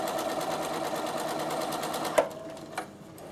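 A Bernina sewing machine runs a steady straight stitch, its needle whirring in a fast even rhythm close by, then stopping abruptly with a couple of clicks near the end.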